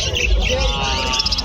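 Euro budgies chirp in a busy bird shop, with repeated high tweets layered over a crowd and nearby voices that are talking.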